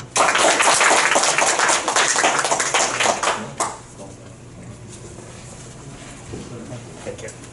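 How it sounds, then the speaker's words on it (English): Applause for a Rotarian speaker at a Rotary club meeting, a dense burst of many hands clapping for about three and a half seconds, then fading into quiet room murmur. "let's have a big round of applause and let's welcome our Rotarian Vito"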